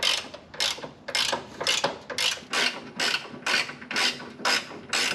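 Rapid ratchet clicks come in repeated close bursts as a bolt is backed out of a salt-water-flooded Corvette ZR1 engine, about ten strokes with short pauses between them.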